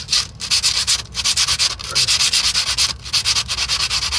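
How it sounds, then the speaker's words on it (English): Steady, rhythmic scratchy strokes of sanding against the metal oil pan of a 2004 Ford F-150 transmission, close up and continuous with brief gaps. "I'm putting dirt in my oil pan by sanding it"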